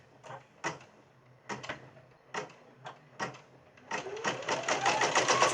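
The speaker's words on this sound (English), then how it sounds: "now it's going to do the placement stitch." An embroidery machine runs a placement stitch on clear vinyl cut from a Ziploc bag for an in-the-hoop Valentine treat bag: a few separate mechanical bursts at first, then a steady, rapid stitching rattle that grows louder toward the end.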